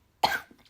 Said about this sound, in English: there's still one, two cough that you might hear in this episode